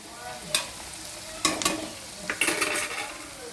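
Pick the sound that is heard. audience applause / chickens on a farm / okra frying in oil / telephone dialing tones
okra frying in oil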